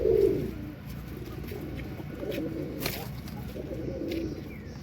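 Domestic pigeons cooing at a busy village pigeon market, with soft, repeated low coos that swell and fade in several overlapping bursts against steady crowd background noise.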